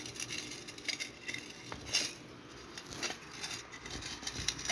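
Faint, irregular scraping and clinking as a metal tool enlarges a drainage hole in a clay yogurt pot being made into a rooftop garden planter; soft taps with low background noise, no talking.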